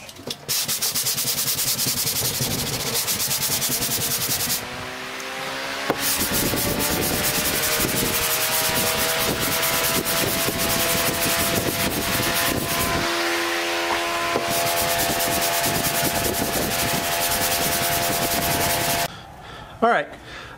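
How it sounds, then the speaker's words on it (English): Steady, harsh rasping of 220-grit sandpaper block-sanding a dented car body panel, loud and continuous with brief pauses between strokes. "I'm gonna start sanding it, blocking it down."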